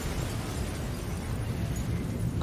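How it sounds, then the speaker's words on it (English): A big explosion from The Boys TV show season 3 finale: a deep, rumbling boom that fills the whole moment, dense low-end roar sustained without a break and with no voices over it. "that's a big ass explosion"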